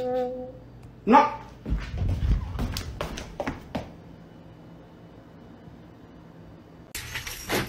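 A dog whimpers with a high, wavering whine, then lets out several sharp barks and yips close by, ending in a short noisy burst.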